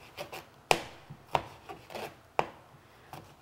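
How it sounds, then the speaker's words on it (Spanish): A knife chops vegetables into julienne strips on a cutting board, giving a handful of sharp, irregularly spaced thuds close by, with softer scraping in between and no talking. "Lo vamos a picar en julianas para luego sofreírlo junto con la cebolla."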